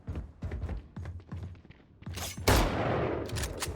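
Rapid gunfire in a Valorant tournament match: several sharp shots spaced evenly, then a dense burst of fire at close range, loud and clear with no talk over it.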